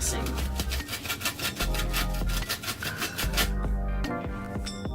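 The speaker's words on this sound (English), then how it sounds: "I actually went ahead and grabbed a cheese grater because that tweezer method was taking a really long time." Cheese grater scraped over a denim jean jacket to distress it, giving a steady rhythmic rasping that repeats in quick strokes over a continuous low background, close and moderately loud.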